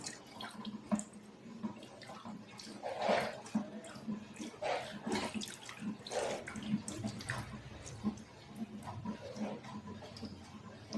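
Dishwash liquid solution, made with caustic soda, is poured and mixed slowly, giving soft, uneven liquid splashing and sloshing at close range with no talking.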